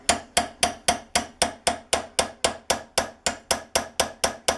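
Small hammer tapping a Howa rifle firing pin held in a vise, about fifteen sharp metallic taps at an even, steady rhythm, close and alone with no talk.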